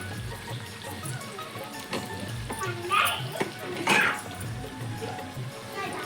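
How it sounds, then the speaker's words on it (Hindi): Heavy rain pours down steadily outdoors with thunder in the air, a continuous broadband wash with a couple of louder gusty swells, while people talk now and then. "पानी तो गिरत रही से बहुत ज़्यादा गिरिस पानी"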